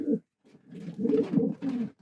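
Racing pigeon cooing in a few soft, low, throaty bursts close by, with short pauses between them.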